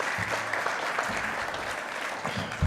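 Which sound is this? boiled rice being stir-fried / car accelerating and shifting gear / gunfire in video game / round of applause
round of applause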